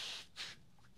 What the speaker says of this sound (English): Let's take a deep breath while I blow my nose.